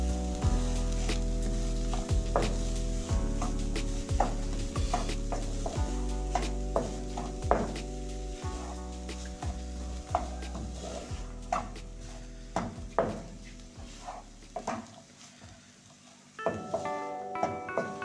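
Chicken samosa filling sizzles and fries steadily in a pan while a spoon stirs it, with repeated scraping knocks against the metal over a continuous hiss, no talking.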